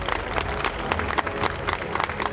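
Steady applause from an audience at a school annual day celebration honoring student athletes, dense clapping with a few sharper claps standing out over a low crowd murmur.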